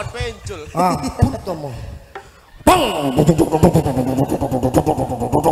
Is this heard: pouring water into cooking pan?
no